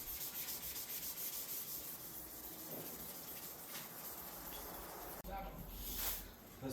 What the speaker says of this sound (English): Just gonna scuff this up as good as I can